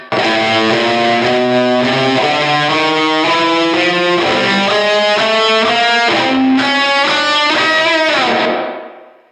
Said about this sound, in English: practicing with too much gain and too many effects